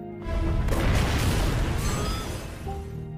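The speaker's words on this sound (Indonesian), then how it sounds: "Saat mereka semua sudah keluar dari kapal, akhirnya kapal itu pun meledak." A ship blowing up in the 2005 film Survival Island, with a loud, sustained booming explosion that swells for a couple of seconds and then rumbles down into a lingering roar.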